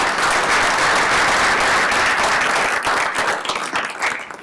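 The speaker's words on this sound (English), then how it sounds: "I'd love to give our staff an applause, and also Alderman Berger for great work on" A town hall crowd in a community college room applauds the staff with loud, dense clapping that thins and grows more scattered near the end.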